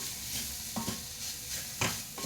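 Spices such as garam masala and turmeric sizzle quietly in a pan for pepper chicken, with a steady frying hiss. A few brief scraping strokes of a spoon stir through them.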